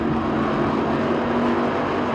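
Street stock race cars roar together on a quarter-mile short track at Talladega, a loud, dense wall of engine drone with layered overlapping motors close by and no break.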